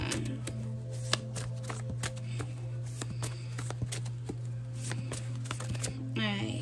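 Tarot cards being shuffled, a steady run of quick papery riffles and snaps held close to the microphone. A constant low hum sits underneath, and a voice talks intermittently over the shuffling.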